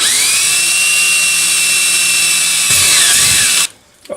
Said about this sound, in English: I'm just going to drill the hole in here.